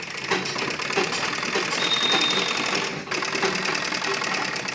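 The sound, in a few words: sewing machine stitching a folded suit lining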